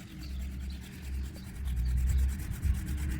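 A Silky pruning saw cutting a stub off an ornamental peach tree, giving a quiet rhythmic rasping of repeated push-pull strokes through wood.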